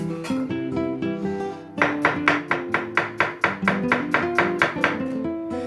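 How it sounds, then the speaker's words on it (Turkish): A knife chops garlic into thin slices rapidly on a cutting board, a fast run of crisp taps that pauses briefly and then resumes in a steady, even rhythm. "Hemen doğrayalım sarımsaklarımızı."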